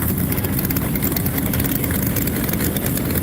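V8 motorcycles idle together at a bike rally, a dense, loud, low rumbling drone of big engines close by, steady and continuous with no voices heard.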